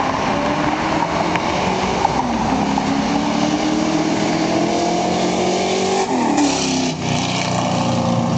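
Black 5.0 car with a fully open exhaust drives by, a loud, continuous engine roar with a shifting pitch as it passes, with no talking.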